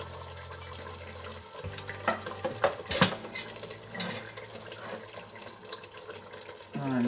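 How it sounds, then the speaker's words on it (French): Tomato sauce is poured and stirred into a peanut butter sauce for poulet à la moambe, giving wet, sloshing kitchen sounds with a few sharper utensil clinks near the middle and no talking. "Je vais mélanger donc ma sauce de pâte d'arachide et là je vais maintenant mettre ma sauce tomate dedans"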